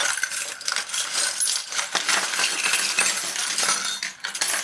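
Small metal pieces clink and jingle continuously, close up, like handfuls of tiny charms being sifted and shuffled.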